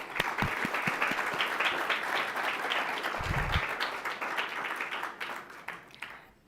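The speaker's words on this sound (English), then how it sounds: "So we can clap to that." An audience at an evening author talk breaks into warm applause, a full dense clapping of a roomful of people with a few sharp nearby claps, tapering off toward the end.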